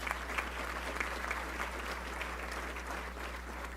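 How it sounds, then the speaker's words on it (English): A seated audience at a public meeting gives a round of applause for a newly announced parks and tourism manager, even moderate clapping throughout over a low steady hum. "Let's give him a round of applause."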